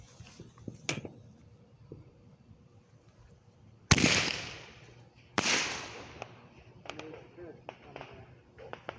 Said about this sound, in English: These are like parachute kind of fireworks as a bonus.